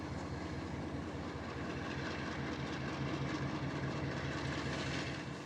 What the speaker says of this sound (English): A westbound empty coal train rolls into the Rollins siding as the light changes.